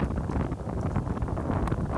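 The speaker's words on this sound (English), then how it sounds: "It was very windy up there, so hence the wind that you can hear." Strong wind buffets the microphone in continuous rumbling gusts at a high outdoor spot in Egypt, loud and close, with no voices.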